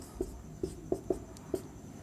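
Pen writing out step 2 of a Class 10 HCF division working, five short distinct strokes in an uneven rhythm, close and clear against a quiet room with no talk.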